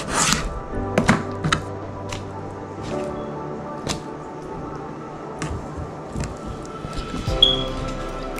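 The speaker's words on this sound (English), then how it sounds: "We're just going to cut these up in strips" A knife chops leopard shark meat into strips for fish tacos, making a series of sharp, separate cuts and knocks on a board at an uneven pace, close and clear.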